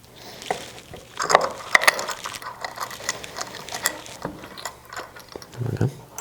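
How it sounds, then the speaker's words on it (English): A metal bolt turned in by hand into the frame of an Uttermost Laurens accent chair, giving light clicking, ratcheting and scraping with a few sharper knocks, close by, alongside faint talk. "we're going to install the next bolt up here in this corner"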